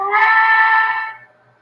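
A model train whistle for an American-type 4-4-0 locomotive, one sustained chord-like blast about a second long that cuts off with a short fade, fairly close and loud, with no talking.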